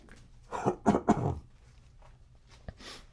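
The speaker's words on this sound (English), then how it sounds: "I clear my throat" A man clears his throat with three rough, close bursts in quick succession, followed by a faint short click and a brief breathy exhale on a quiet live stream.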